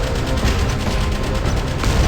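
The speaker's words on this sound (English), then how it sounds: "Stop the I'm being fired at" Dense gunfire and blasts aimed at a warship in the naval game Modern Warships, a loud continuous barrage with rapid overlapping reports and no pauses or talk.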